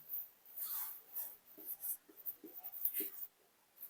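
Pen scratching across paper in short irregular strokes, close and fairly quiet, with brief pauses between bursts of writing.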